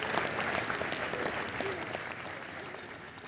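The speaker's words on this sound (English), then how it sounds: "give them a round of applause for everything that they have done for you" Applause from a high school graduation crowd honoring parents and families, a dense steady clatter of many hands that holds strong and tapers slightly toward the end.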